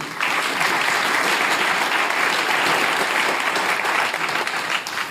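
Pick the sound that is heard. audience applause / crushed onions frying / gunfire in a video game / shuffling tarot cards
audience applause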